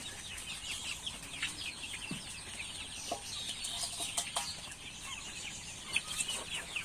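Local desi chickens clucking on a small farm flock of more than 150 birds, a steady chorus of overlapping clucks and chirps at moderate distance with occasional louder calls and brief wing flaps.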